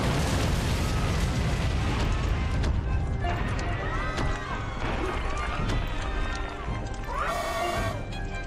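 Missile explosions in the kaiju video game Kaiju-A-GoGo during a siege, a dense barrage of loud booms and bursts over rumbling game noise while someone talks.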